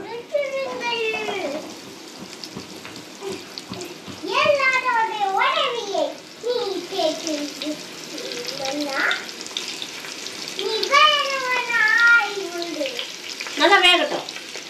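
Kola fish frying in a pan gives a steady sizzle and crackle throughout, while a voice talks over the cooking at intervals.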